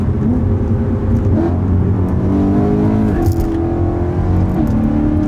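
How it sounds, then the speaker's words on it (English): A BMW E92 M3 with a DCT gearbox accelerates hard, its loud engine rising in pitch and then dropping sharply at quick gear shifts, heard steadily from inside the car. "These shifts, man, what a characteristic of the DCT."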